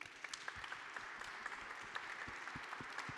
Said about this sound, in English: let's end with a big round of applause for the speakers